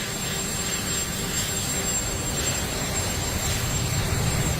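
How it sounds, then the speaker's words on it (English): A steady, broad roar of an airplane taking off fills the whole stretch evenly at a distance, with a thin constant whine above it. "It's just cool watching this plane take off"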